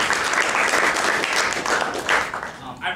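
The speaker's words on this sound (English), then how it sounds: "let's give a round of applause for John" An audience at a meeting applauds with dense, continuous clapping, loud and close, that begins to fade toward the end as a voice starts speaking.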